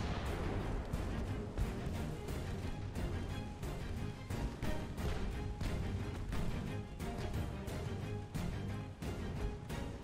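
Warship rear guns fire in the naval battle game Ultimate Admiral: Dreadnoughts, a dense, loud barrage of heavy booming shots overlapping almost without pause for the whole stretch.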